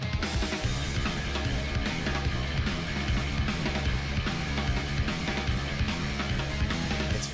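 Fast, driving anime soundtrack music from Blue Lock plays continuously with dense, energetic instrumentation and a heavy, steady beat throughout, loud and full.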